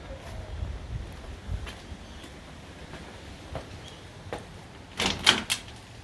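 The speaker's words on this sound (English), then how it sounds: "We'll come through the front door." A front door of a brick housing-trust home opening, heard as a brief cluster of clicks and a soft rattle near the end, fairly close, over faint room noise with no talking.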